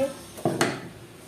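A wok (kadai) is set down on a kitchen stove with two quick metallic clanks close together, then a brief ringing fade in a quiet room.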